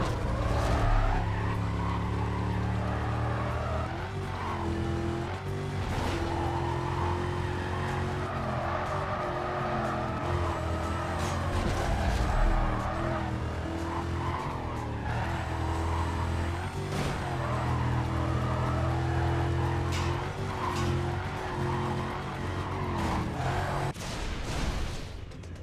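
A muscle car drifts in the Need for Speed Carbon video game, its loud, sustained engine roar carrying long stretches of screeching tire squeal without a break, with no talking.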